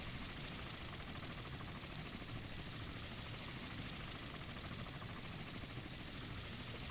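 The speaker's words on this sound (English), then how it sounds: "I can't do anything with this guy until this helicopter finishes what it's doing." A helicopter in the naval video game Sea Power gives a steady, dense rotor and engine roar that runs unbroken throughout, with no one speaking.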